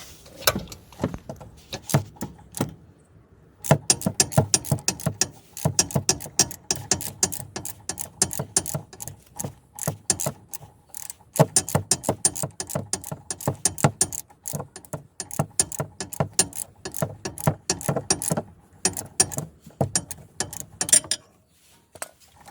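A ratchet tightens the rear brake caliper pins on a 2016 BMW 1 Series F21, making rapid bursts of close, sharp clicking with short pauses between strokes.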